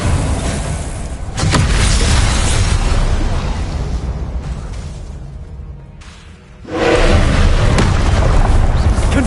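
Confringo and Incendio spell blasts in Hogwarts Legacy produce loud, roaring booms and fiery bursts that fade, then surge again into a heavy sustained blast, with a voice speaking.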